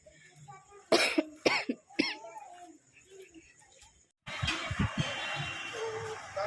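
Several sharp, close coughs come in quick succession, followed by quieter rustling and a burst of louder background noise.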